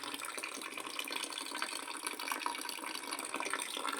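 Water trickling out through a small hole in a can and running downward, a steady, faint, even splashing flow with light dripping and no pauses.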